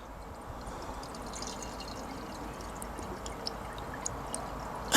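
Hot water is poured into a car's diesel particulate filter that has been removed for cleaning. A faint, steady trickle and splash runs throughout, with a few brighter drips and a small clunk at the end.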